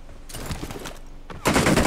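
Rapid gunfire in the video game PUBG Mobile, with dense automatic bursts crackling in two close-range volleys, the second louder and harsher.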